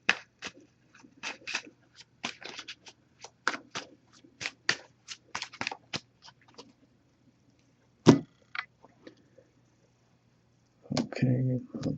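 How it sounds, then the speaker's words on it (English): Oracle cards from a Messages of Love deck shuffled by hand in bursts of quick papery riffles and taps, spaced across the stretch, followed by a brief louder rustle near the end. "I'm just going to give this a few shuffles first."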